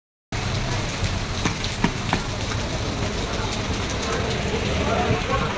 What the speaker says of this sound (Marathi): आत्ता पाऊस नव्हता आणि इतका मोठा पाऊस येतोय ना.